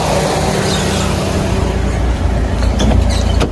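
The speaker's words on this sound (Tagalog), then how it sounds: "Kaya kapag pinipihit nyo yung manibela, napapansin niyo tumataas yung kanyang RPM." A car engine idles steadily, and its RPM climbs as the steering wheel is turned, putting load on the power steering. The hum grows slightly louder toward the end, with no talking.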